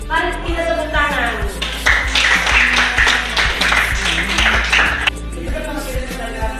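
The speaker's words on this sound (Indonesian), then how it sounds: "Mari kita tepuk tangan." Schoolchildren in a classroom clap together in a quick rhythmic burst of applause, with talking before and after the clapping.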